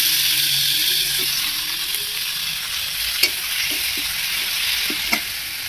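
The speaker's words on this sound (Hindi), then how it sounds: "हम लोग का प्याज भुंजा गया है, देख सकते हैं। अब इसमें टमाटर डाल देंगे।" Tomatoes go into a pan of fried onions: a steady, fairly loud hiss of sizzling runs throughout, with a few sharp clicks of a spoon against the pan.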